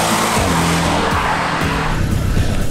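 Porsche 718 Boxster GTS with its 2.5-litre engine heard from outside, a loud, steady engine roar with tire noise as the car drives past close by.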